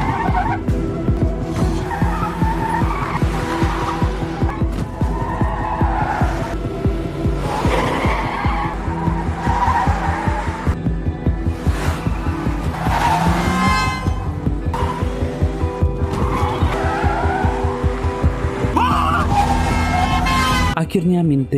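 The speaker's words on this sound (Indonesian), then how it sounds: "Min-tae mencuri mobil taksi yang tak dikunci dan mengejar Byung-kyu. Dan terjadilah aksi kejar-kejaran." A stolen, unlocked taxi races through an action-film car chase: tires squeal and skid again and again over roaring engines and a steady, dense background of noise.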